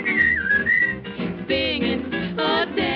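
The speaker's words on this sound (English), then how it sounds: "I whistle and sing." A performer whistles a bright, wavering tune from a 1941 colorized co-ed musical film, the melody carried over orchestral backing in steady phrases with no talking.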